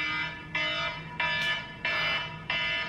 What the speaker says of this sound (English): some people's alarms sound like